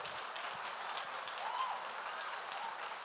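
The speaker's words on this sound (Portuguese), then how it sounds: "Pode aplaudir Jesus." A church congregation claps during a sermon, producing a soft, even patter of applause heard from a distance and sustained without any voices.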